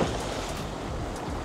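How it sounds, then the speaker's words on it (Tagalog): Waves slap hard against a small tour boat at sea off El Nido, Palawan, a steady broadband wash of churning water and wind buffeting the microphone, with no distinct individual hits and no voices. "Malakas yung sampal ng alon."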